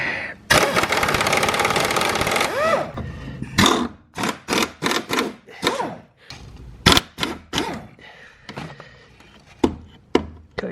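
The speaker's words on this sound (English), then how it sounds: "So now I'm going to go and rattle off the subframe bolts and drop everything." Pneumatic rattle gun driving off subframe bolts on a Daihatsu Mira Avanzato TR-XX 660cc turbo during engine removal: a long loud burst of impacting, then a series of short sharp bursts in irregular rhythm, close and alone.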